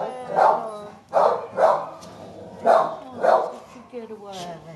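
A big spotted dog barks in loud, separate deep woofs, about five spread across the stretch, close by with some voices faintly around it.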